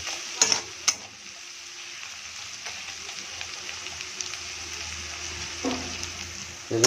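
In a home kitchen, onions and spices with cumin powder and salt fry softly in a pan, with a faint steady sizzle and a few sharp clinks and scrapes of a spoon stirring.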